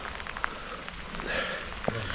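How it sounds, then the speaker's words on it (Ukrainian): Steady night rain patters on a surface at a riverbank fishing spot, a soft continuous hiss with a few louder drops, no voices. "Дощ лє."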